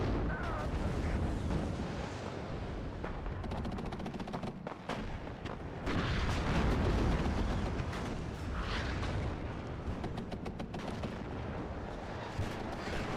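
M270 MLRS rocket artillery volley in the video game WARNO, a dense, sustained roar of launches and rumbling blasts that swells and fades over several seconds.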